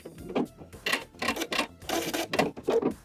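A sewing machine back stitching at the end of a hem, a quiet series of short mechanical rattling bursts with brief pauses between them and no voices.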